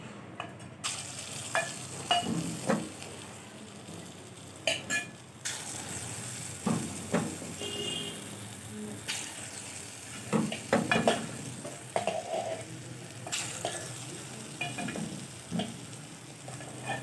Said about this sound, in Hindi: अब ये ग्रीन भी बस फ्राई हो रहे हैं